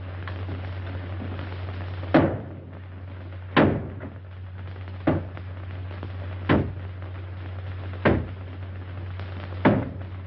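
A wooden door in a Casbah setting is battered with heavy, regularly spaced blows, about six loud thuds a second or so apart over a steady low hum, each ringing out briefly.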